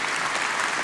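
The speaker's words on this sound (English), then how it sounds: "you can clap for that" A brief burst of keynote audience applause at a tech conference, dense and steady clapping from a large crowd.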